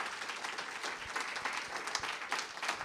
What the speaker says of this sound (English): Can we have one more big round of applause for Pete Hocking, Joan Wickersham, and Rowan Ricardo Phillips?